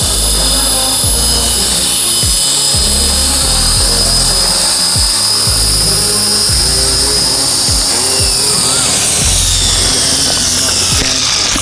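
A Tarot 450 drone hovers and comes in to land, its rotors a loud, steady high-pitched whine with pulsing motor surges, close and continuous throughout.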